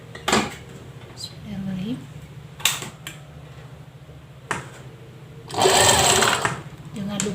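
A sewing machine runs a brief stitch on fabric at the start of a seam during a beginner's sewing lesson, one loud whirring burst near the end after scattered clicks and handling noises, while someone speaks.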